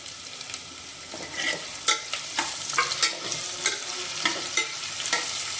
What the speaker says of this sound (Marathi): खमंग वास सुटेपर्यंत भाजून घ्या